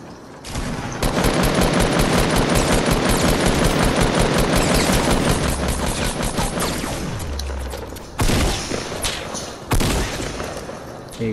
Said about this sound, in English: We're being shot at again.